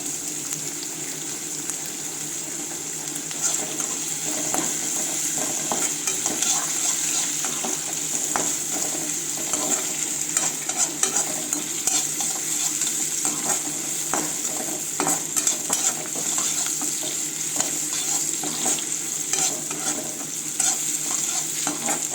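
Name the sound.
onions and curry leaves frying and being stirred in a pan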